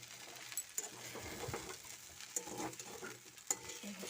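Poha seasoned with Maggi masala sizzles quietly in a pan while a spoon stirs and scrapes it in irregular strokes, with a few sharper clinks; no one talks.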